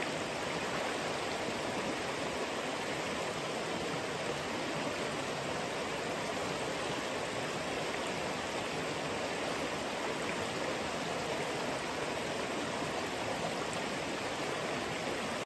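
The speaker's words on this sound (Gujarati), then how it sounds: "એકદમ ખળખળ ધીમું ધીમું પાણી જાય છે" A forest river flows over slippery rocks with a steady, full, close rushing and gurgling wash that never pauses, with no voices over it.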